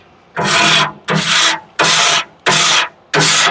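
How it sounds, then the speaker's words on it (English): A bench scraper scrapes caked buildup off smoker grates in five loud, evenly spaced rasping strokes. Each stroke lasts about half a second, with short pauses between them and no talking. "So I'm just gonna start scraping."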